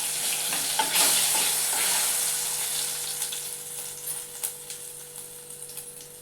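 Chana dal and mustard seeds crackle in hot oil during a village-style Telugu tempering for drumstick curry, giving a bright close sizzle with stirring scrapes that eases slightly toward the end.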